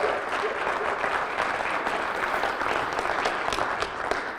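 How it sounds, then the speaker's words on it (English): An audience claps at a conference opening night, dense and continuous applause with sharp individual claps standing out, steady and fairly loud throughout with no talking. "Give him a round of applause."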